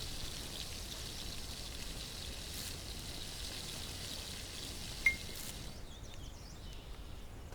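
Water boils in the survival video game The Last Plague, a steady hissing, bubbling wash that holds level throughout, with one brief click near the end before the sound thins out.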